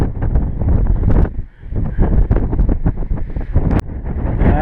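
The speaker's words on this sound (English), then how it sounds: "It's got pretty windy up here." Strong, steady wind buffeting the microphone on a rocky hiking trail among boulders in Sedona, Arizona, a loud continuous low rumble with gusty surges and a brief lull near the middle.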